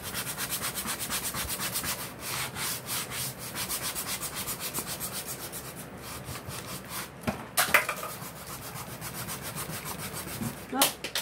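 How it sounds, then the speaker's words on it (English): A Dollar Tree craft piece is hand-sanded to give it a distressed, aged finish, producing steady back-and-forth rubbing strokes close up that continue without pause, with no voices. "I'm giving it a good sanding because I want it to look old. I want it to look distressed."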